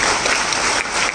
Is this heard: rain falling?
no